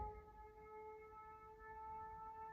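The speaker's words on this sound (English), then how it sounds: "Those are tornado sirens in my area." A distant tornado siren wails in a steady sustained tone, faint and far off, holding level over a quiet background.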